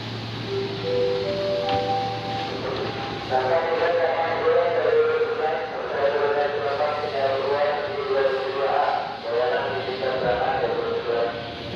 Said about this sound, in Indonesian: Jadi kayak gitu ya suasana di stasiun Manggarai di jam pulang kantor ya.